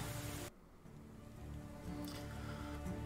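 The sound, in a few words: rain in video game Medieval Dynasty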